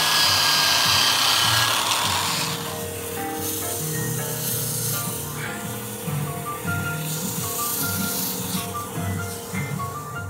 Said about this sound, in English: doing some sanding on this while we're between centers